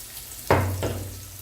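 Chopped onion dropped into about a cup of hot oil in a pot, a sudden loud burst of sizzling followed by a second splash, then a quieter fading fry.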